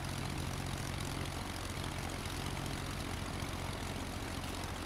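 Steady, even drone of a light propeller airplane engine in flight on approach with wheels down and flaps being lowered, loud and continuous throughout without pause.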